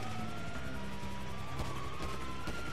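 An ambulance siren in the video game GTA V wails in a continuous rising and falling tone over rumbling traffic and engine noise, fairly steady throughout.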